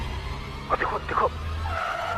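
A car reversing in a zigzag lets out two brief, sharp tire squeals in quick succession over a low engine hum, fairly close, before the rumble carries on alone.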